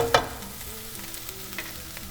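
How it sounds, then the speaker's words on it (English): Ingredients sautéing in a pan for carne en su jugo, a quiet steady sizzle with a sharp clink near the start and soft scattered stirring sounds. "we're gonna let this saute up a little bit"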